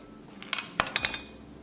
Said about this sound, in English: We're going to cut into small pieces.